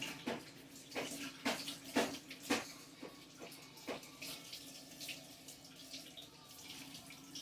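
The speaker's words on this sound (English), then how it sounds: "going to rinse my pepper now that I've chopped it up" Tap water runs into a sink as a chopped pepper is rinsed to wash off its seeds, a steady low wash broken by several louder splashes and clatters in the first few seconds, with no talking.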